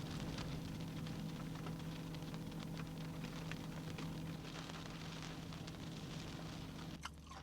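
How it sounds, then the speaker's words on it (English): Steady rain patters heavily and evenly for several seconds at the Great Sand Dunes, Colorado, then the sound shifts abruptly near the end. "Started to rain."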